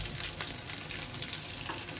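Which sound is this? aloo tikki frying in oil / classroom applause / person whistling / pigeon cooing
aloo tikki frying in oil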